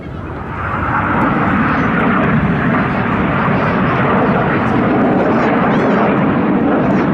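Royal Air Force Red Arrows jets roar loudly overhead during an air festival flying display, a sustained, swelling engine rumble that rises within the first second and then holds steady and powerful.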